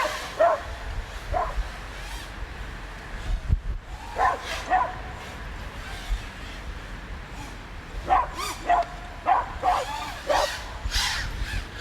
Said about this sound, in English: Kill it with barks.